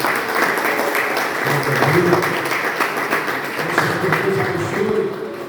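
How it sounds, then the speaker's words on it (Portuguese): A church congregation at a missions service applauds together, a steady crowd of clapping hands filling the space, with a few voices and cheers rising underneath throughout. "Pode aplaudir a Deus por essa palavra."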